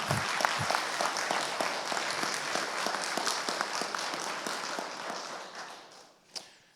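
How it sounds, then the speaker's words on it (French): Applause from a church congregation at a baptism ceremony, distinct individual claps forming a rhythmic patter that thins and fades toward the end, followed by a single isolated knock or clap. "Peut-être applaudir aussi Natacha."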